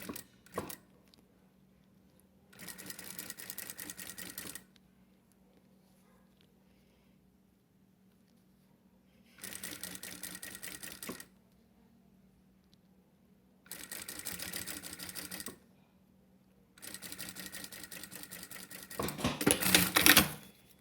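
Sewing machine stitching along a zipper in several separate bursts of rapid, even mechanical chatter, each lasting one to two seconds with quiet pauses between, close and fairly soft.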